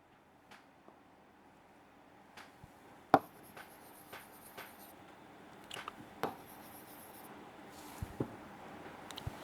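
Marker or chalk writing on a classroom board during a Class 10 maths lesson on real numbers and a theorem: faint, scattered scratchy strokes and light taps spread over several seconds, with no talking.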